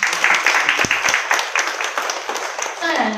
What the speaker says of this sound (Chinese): 借助于大家的掌声啊